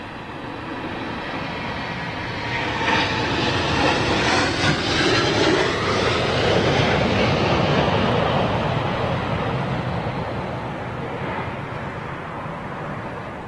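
An airliner landing at London Heathrow gives a loud, broad engine roar that swells to a peak midway and slowly fades as it passes, alone and sustained throughout.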